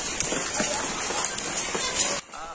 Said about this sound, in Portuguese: Chuva de granizo, ó.